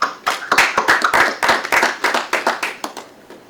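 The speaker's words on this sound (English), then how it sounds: "how about a round of applause for you three?" A small group claps at an Army promotion ceremony for a brigadier general, quick uneven hand claps close by that taper off after a few seconds, with no voices.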